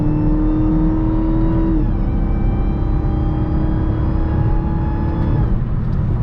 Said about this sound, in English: Listen to that whine.